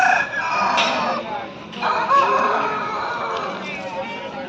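Roosters crow repeatedly at a busy Sunday chicken market in Pileru where aseel birds are sold, with several overlapping calls close by and people talking throughout.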